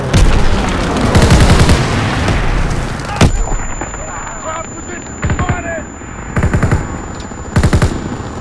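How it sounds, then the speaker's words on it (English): Call of Duty: WWII combat on the Rhine: rapid bursts of gunfire and a sharp grenade blast, loud and close, followed by scattered shots and shouted voices over the battle. "Grenade out!"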